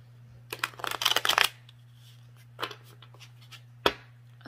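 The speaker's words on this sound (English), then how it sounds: "I've already cleared and shuffled all the decks. I'm going to give this one more shuffle." A deck of tarot cards is shuffled in short riffling bursts, followed by a few isolated taps and flicks of the cards, close and quiet against a faint steady hum.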